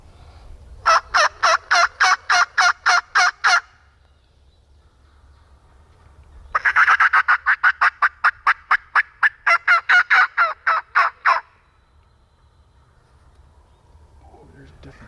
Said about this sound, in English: There's multiple gobblers gobbling.